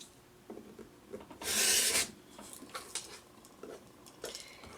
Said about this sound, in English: Now we are going to cut directly on that drawn line.